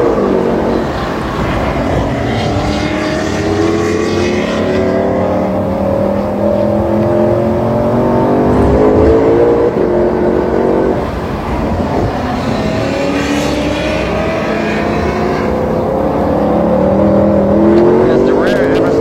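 A race car on a racetrack runs an easy cool-down lap, its engine drone rising and falling in pitch as it shifts through gears, loud and close from inside the car, with talking over it.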